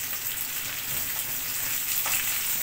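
Garlic and onions frying in a pan for an Ilocano goat papaitan, a steady close hiss and crackle of sizzling oil with no talk.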